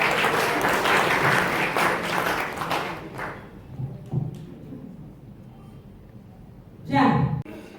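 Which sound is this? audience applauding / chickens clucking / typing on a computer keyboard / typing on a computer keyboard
audience applauding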